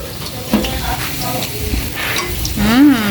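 Steady sizzling of food frying and browning quickly in a pan on Christmas Eve, close and continuous, with some clinks of stirring and a brief voice near the end.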